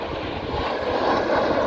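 A steady, loud roar from the Rolls-Royce engine of a BAE Hawk Mk120 jet trainer, with broadband rushing noise, continuous throughout with no speech.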